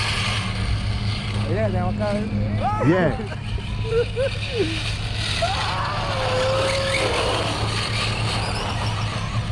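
RC cars drag racing on a street, with a steady motor whine and a passing engine sweep under loud excited voices and shouting.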